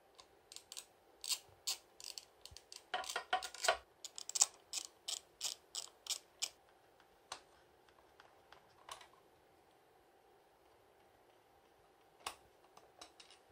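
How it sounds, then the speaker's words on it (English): Ratchet wrench rapidly clicking while undoing 8mm bolts on a Yamaha YBR 125 speedo cluster, quick close bursts of pawl ticks that thin out to sparse clicks, no speech. "it is possible to remove the cluster by undoing these 8mm bolts here"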